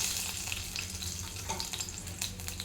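Bay leaf, cloves, cardamom and garlic cloves sizzling steadily in hot oil in a pan for sambar, a close continuous crackle with faint stirring scrapes and no talking.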